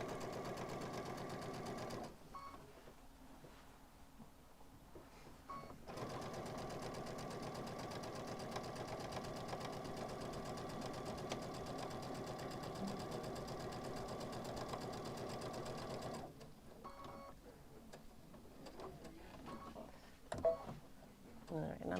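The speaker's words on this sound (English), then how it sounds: "I'm just back stitching a little bit." A sewing machine stitches an Aurora bag with a steady, fast mechanical whir and ticking, running for long stretches and broken by short pauses for back stitching, while a voice talks quietly at times.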